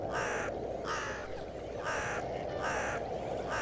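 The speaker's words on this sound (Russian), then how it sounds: "С приходом теплых дней водоемы и леса оглашает разноголосый птичий гомон" Crows caw in a forest of Zabaikalsky National Park by Lake Baikal, five harsh calls spaced at a steady rhythm over constant background hiss, moderately distant.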